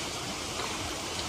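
River stream flowing after heavy rain beside a fig tree where fish traps are set, a steady dense rush of water close by with no talk.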